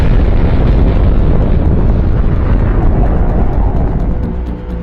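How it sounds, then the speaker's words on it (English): The Fat Man plutonium atomic bomb detonates in a loud, sustained, roaring rumble that dominates throughout and only begins to fade near the end. "This nuclear chain reaction causes a tremendous explosion."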